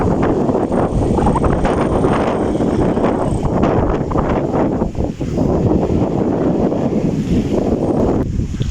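Strong wind buffets the microphone in a steady, roaring rush that barely lets up, with no voices heard, in Laurel, Batangas, Philippines.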